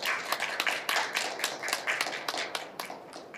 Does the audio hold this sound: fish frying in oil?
no